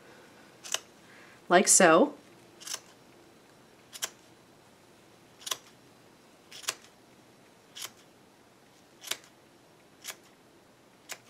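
Scissors snip around the edges of a yarn pom-pom in sharp, evenly spaced clicks, about nine cuts in all, close and distinct. A short spoken phrase interrupts early on.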